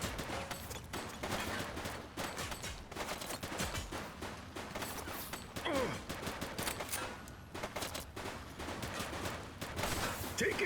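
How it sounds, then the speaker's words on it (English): Rapid exchanges of video game gunfire pop and rattle in dense volleys during a police shootout, with voices speaking over the shots throughout. "He's shooting!"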